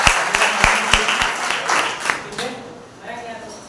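Congregation at a Sunday church service applauding a newcomer named Karan, with several sharp hand claps standing out at the start before the clapping thins and tails off; voices are heard over it.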